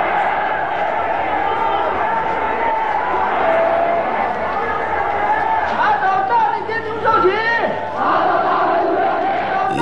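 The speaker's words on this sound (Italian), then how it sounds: "piazze che tremano sotto ai ruggiti di una folla" A vengeful crowd roaring in a public square, a dense wall of massed shouting and chatter with rising cries and yells swelling near the end, continuous and fairly loud.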